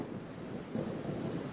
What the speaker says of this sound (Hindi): अरे बारिश आ गई